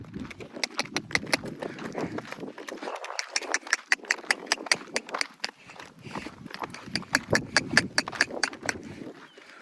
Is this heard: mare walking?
yes